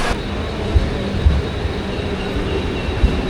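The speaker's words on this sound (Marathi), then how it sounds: "ट्रेन आले" A train pulling into Chhatrapati Shivaji Maharaj Terminus in Mumbai during monsoon rain, a steady rumble with a few low thumps and clunks spread across the clip, fairly close and with no talking.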